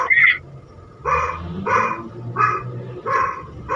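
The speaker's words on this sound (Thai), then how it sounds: "หนูเห็นหมาไอหมาตัวเห่าไหม เห็นมันเห่า" A dog barks repeatedly in a steady rhythm, about six loud, close barks with short gaps between, heard alone without talk.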